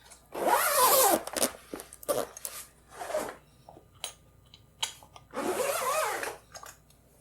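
Zipper on the fabric enclosure of an Elegoo Neptune 4 Max 3D printer being pulled up, two long loud zipping strokes with a few shorter tugs and rustles between them, close by with no talk.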